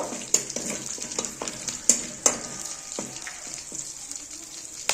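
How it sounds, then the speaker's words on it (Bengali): A tempering of bay leaf, dried chilli, cinnamon, cloves and cardamom frying in oil in a kadai, a soft continuous sizzle broken by sharp scraping knocks as a spoon stirs it, close and without talk. "ফোড়নটা হালকা করে ভাজা করে নেব"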